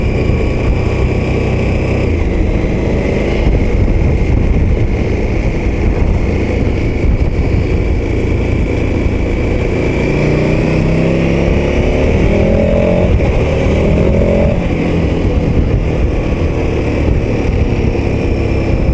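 KTM 1290 Super Adventure S motorcycle engine pulling hard through an overtake, a loud steady roar with rising pitch sweeps and heavy wind rush, heard from the rider's position with no talk.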